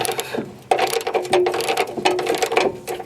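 Ratchet loosening the rear tow hook bolt on a 2001 Ford F150 4x4 pickup, a series of rapid clicking pawl bursts in several close, loud runs with short pauses between them.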